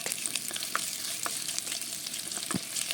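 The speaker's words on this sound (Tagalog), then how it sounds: "Sa isang pan, magpainit tayo ng mantika at kung mainit na, pwede na natin igisa ang luya" Sliced ginger sizzles and crackles in hot oil in a pan, a steady frying hiss close up with occasional louder pops and a utensil stirring, no talking.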